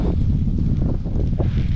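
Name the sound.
wind on a windy day while cycling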